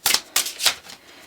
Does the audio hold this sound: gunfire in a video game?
no